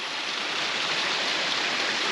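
A small waterfall on a mountain path in South America near Vinicunca gives a steady, full rush of splashing water, close by and unbroken for the whole short stretch.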